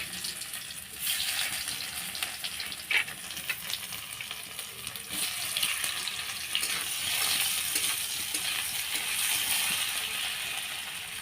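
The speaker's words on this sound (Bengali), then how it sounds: "আলুটাকে ভেজে নিতেছি" Potatoes frying in hot oil in a pan give a steady close sizzle and crackle, with occasional stirring clinks and no talking.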